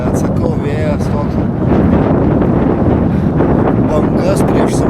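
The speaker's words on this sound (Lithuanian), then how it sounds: "Bet sakau, vėjas toks." Strong headwind buffets the microphone of a cyclist riding along the Nemunas river, a loud continuous rumbling roar with gusty swells, and a voice briefly speaks over it.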